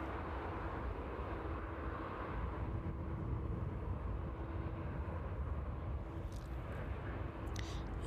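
Jet aircraft departing from runway 09 at East Midlands Airport in the evening, a steady broad engine roar held at a constant level throughout, heard from outside with no talking.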